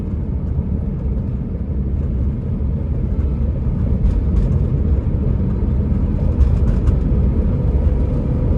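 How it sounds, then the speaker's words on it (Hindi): A car drives along a Delhi road, heard from inside as a steady, loud low rumble of engine and road noise with no clear break for a gear change. "चौथा गियर लगाते हैं।"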